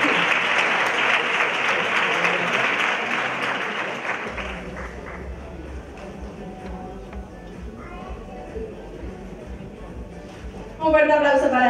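Theater audience applauding at a Miss Grand beauty pageant final, loud dense clapping that fades down into lighter scattered claps, with a voice speaking briefly at the end.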